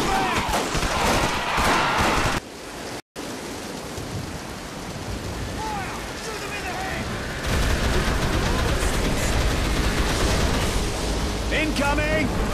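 Gunfire aimed at an enemy in the zombie game Dead Island Riptide, a busy barrage of shots with loud noisy bursts that cut out briefly and then return heavier, with voices shouting over the combat.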